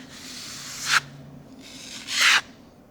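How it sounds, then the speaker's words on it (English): A broad knife spreads ready-mixed filler over a scratch in a wall, making two close scraping strokes. The second stroke is longer and louder, and a quiet pause separates the two. "Just using my nice clean broad knife, take a little bit of our ready filler, and I'm just going to apply that"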